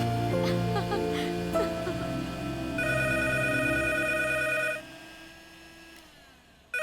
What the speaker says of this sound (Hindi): गंगा देखो किसका फोन आया है।